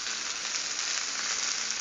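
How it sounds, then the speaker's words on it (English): Eggs and a burger frying on a Blackstone griddle give a steady, dense, close sizzle that holds evenly throughout with no talk. "The eggs are frying up nice and pretty."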